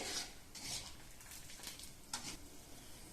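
A spoon stirs lemon coriander soup in a pot, giving soft scraping swishes in a few uneven strokes, fairly quiet and close.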